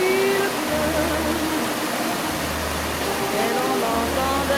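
Steady rushing wash of rain in Blesle, Auvergne, a dense continuous hiss with faint tonal streaks running underneath, no talking.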